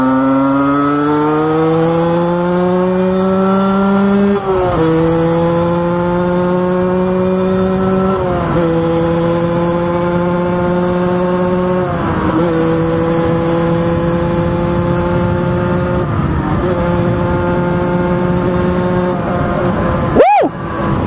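A Derbi GPR 50cc moped with a Conti exhaust revs hard and close, its high buzzing note climbing through several gear changes before a sharp blip and cut at the end.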